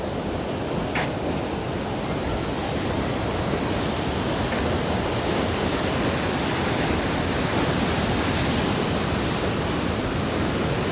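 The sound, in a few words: ocean waves at La Jolla Cove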